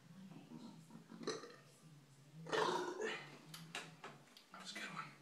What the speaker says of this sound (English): there's a burp.